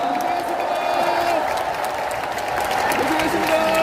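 A large crowd at a Democratic Party presidential primary rally applauds steadily, with scattered voices and faint cheering mixed into the continuous clapping.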